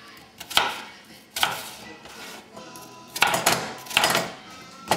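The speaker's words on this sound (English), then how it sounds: "you want to chop them up in slices" Peeled apples or pears are chopped into slices with a knife on a board, giving a few separate sharp cuts spaced irregularly, close and moderately loud.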